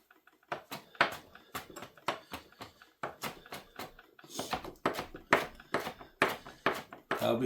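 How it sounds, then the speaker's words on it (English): A knife chops fresh cilantro on a cutting board in a home kitchen, a close run of sharp, rhythmic taps that come in quick bursts with short pauses between. "basically just chopping that through"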